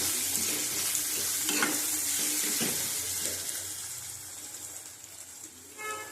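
Turmeric, Kashmiri chilli powder and other spices sauté in a pan for egg chicken tarka, a soft sizzle under a few scraping stirs of a spoon, close but fairly quiet and fading toward the end.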